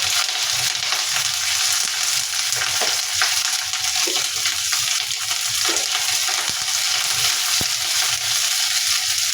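Garlic and onion fry in hot oil for chilli chicken, giving a loud, continuous sizzle with scattered clicks and scrapes from stirring in the pan, and no talking.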